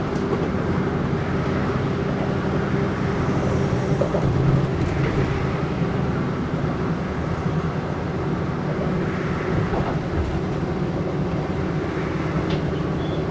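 Steady rumble and clatter of an Amtrak train crossing the Hell Gate rail bridge over the East River in New York, a continuous loud roll of wheels on track with no voices.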